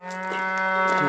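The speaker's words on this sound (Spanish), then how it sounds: "Aquella es la que muge todo el rato sin parar." A cow on a rural farm gives a single loud, close moo, a steady tonal low that swells slightly and holds for about a second.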